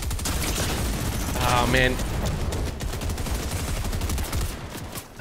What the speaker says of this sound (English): No, I just got shot in the back.